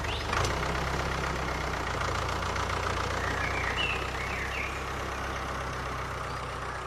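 A tractor engine idles steadily on a farm field, a low continuous rumble with a brief knock near the start, holding constant and fairly close with no voices.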